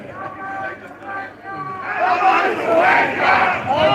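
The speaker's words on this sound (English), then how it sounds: "Can you see the crowd behind me?" A large rally crowd roars with shouting and cheering that swells and stays loud and dense after a quieter opening, with a voice calling out over the noise.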